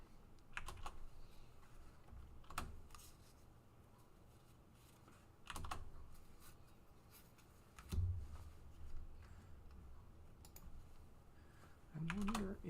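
Keys clatter on a computer keyboard close to the microphone in short, quiet bursts of rapid tapping, separated by pauses of near silence.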